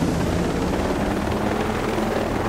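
A helicopter in the video game Ghost Recon Breakpoint makes a loud, continuous rotor-and-engine roar that stays level throughout, with no voices over it.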